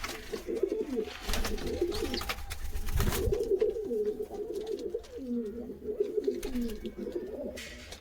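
Several pigeons coo in a busy loft, their throaty rolling calls overlapping steadily and close by, with a few brief thumps and rustles mixed in.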